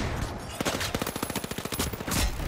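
Rapid bursts of automatic gunfire from the video game The Finals, a fast run of sharp, evenly spaced shots in the middle, loud and close, set within busy game noise.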